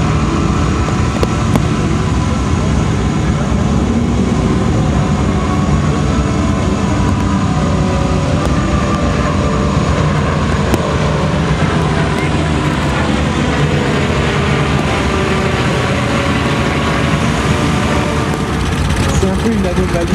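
A Junkers aircraft engine starting up at the 2008 La Ferté-Alais airshow in France: a loud, continuous droning roar that stays dense and steady throughout.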